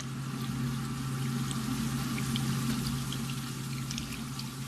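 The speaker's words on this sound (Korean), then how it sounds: "그럼 저 안에서부터 올라오는 이산화탄소가 끝에서 이렇게 소리를 빠글빠글 내는 거죠" Makgeolli fermenting in a brewery vat, carbon dioxide bubbling up through the rice wine with a steady dense fizzing and gurgling, close and continuous with a low hum underneath.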